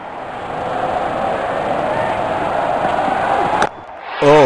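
A cricket crowd roars in a broad, sustained wash of cheering at a Bangladesh versus Australia match. The noise stays loud and steady, then cuts off abruptly near the end.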